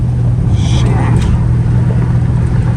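A straight-piped Dodge Hellcat Redeye with its exhaust valves closed cruises at night in traffic, giving a deep, steady low rumble from inside the car.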